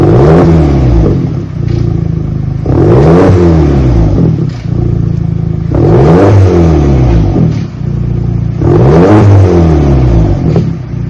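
A 2020 Audi engine with straight pipe exhaust after a muffler delete, revved four times in a regular rhythm, each rev a loud, close rumbling swell that drops back to idle between revs, with no talk.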